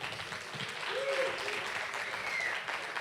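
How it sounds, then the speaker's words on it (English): A crowd at a hackathon closing ceremony claps for the judges, a short burst of moderately faint applause with scattered voices and a few whoops mixed in. "Round of applause for our judges."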